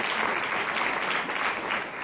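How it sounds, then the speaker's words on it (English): A conference audience claps together in a brief, steady burst of applause, dense and continuous, easing slightly at the very end. "we clap for them"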